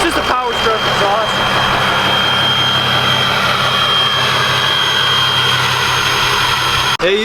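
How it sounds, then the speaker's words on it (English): Roaring diesel exhaust from a Powerstroke engine, a loud steady jet-like rumble and whine that holds throughout, with a brief dip near the end. "Oh no, it's just a power stroke exhaust."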